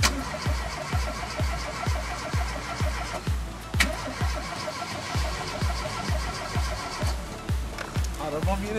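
A car that won't start cranks over and over without catching: a close, steady chug of about two starter strokes per second that runs for several seconds, briefly pausing and resuming.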